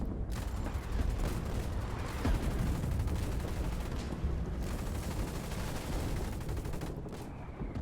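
Artillery shells pounding infantry in the war game Foxhole, a dense, continuous roar of blasts and gunfire with no clear gaps, loud and close.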